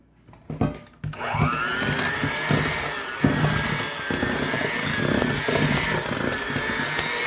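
An electric mixer whirs up to speed in German chocolate cake batter, a steady motor drone with rhythmic thumps as the beaters work through the bowl, close and fairly loud.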